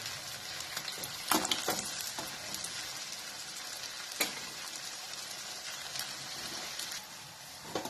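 Spring rolls deep-frying in oil over a low flame give a steady, close crackling sizzle with a few sharper pops and bursts scattered through it.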